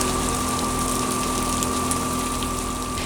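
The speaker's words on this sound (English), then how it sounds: "We then take one of the peach teats off and the water drains from the trough onto the ground." Water draining out of a livestock feeder trough after a Peach teat is removed, a loud continuous gushing splash onto the ground, steady and close with no pauses.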